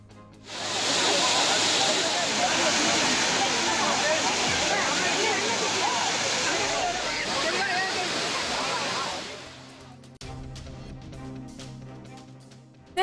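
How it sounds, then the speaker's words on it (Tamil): Kumbakkarai waterfall pours down in heavy flow as tourists bathe beneath it, a loud, dense, continuous roar of falling water that fades out near the end. "கும்பக்கரை அருவியில் ஆர்ப்பரித்து கொட்டிய நீரில் சுற்றுலா பயணிகள் உற்சாக குளியல்."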